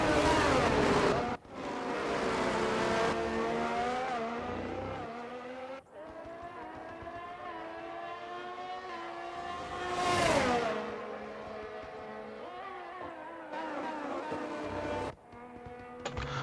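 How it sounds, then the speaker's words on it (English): Ferrari and Aston Martin race cars in a racing video game, engines screaming loud and close with rising and falling revs through gear changes, brief dips between shifts and a sharp high-pitched surge near the middle. "Here's the Ferrari driver trying to line up a pass on the Aston Martin."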